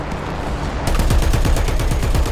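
Rapid automatic anti-air gunfire from a British tank in War Thunder arcade battle, a loud, close, steady burst of repeating shots that starts abruptly and keeps hammering for over a second.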